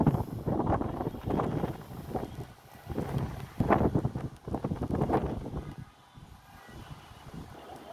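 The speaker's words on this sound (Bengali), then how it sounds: "আর প্রচন্ড বাতাস হচ্ছে।" Strong wind blows across a city rooftop, loud gusty buffeting that rises and falls and hits the microphone directly, easing toward the end. No voices are heard.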